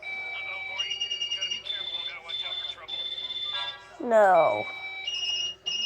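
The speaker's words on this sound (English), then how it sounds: "Here's the sound of the ringtone." A phone ringtone plays a repeating electronic melody of bright tones, with a brief swooping sound partway through and a voice talking quietly underneath.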